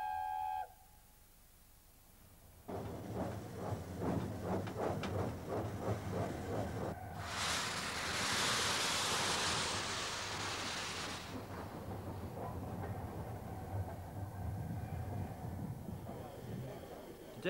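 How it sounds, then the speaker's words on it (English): The steam locomotive Mallard leaves its shed, starting up with rhythmic chuffing that builds, then a loud burst of hissing steam, followed by a steady rumbling roar. "the proud locomotive leaves her shed on the way to pick up her train."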